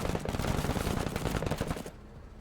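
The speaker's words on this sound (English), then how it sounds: "we'll take 2 shots at it to chip away at its armor" Small arms gunfire in the video game Menace, a rapid rattling burst of closely spaced shots that cuts off sharply near the end.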